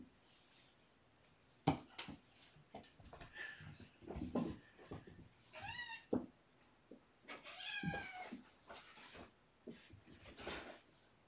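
A kitten meows repeatedly during a photo shoot, with several short rising and falling mews spread across the stretch, close and clear, amid light thumps and rustles.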